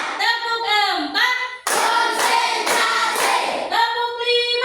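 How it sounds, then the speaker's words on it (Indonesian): A class of children claps their hands on count in a lively burst of rapid, even broadband claps, set between sung or chanted voices at the start and end. "Tepuk empat."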